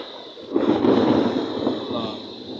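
A deep rumble of thunder rolls in and fades over a couple of seconds, loud against a steady background hiss of monsoon rain.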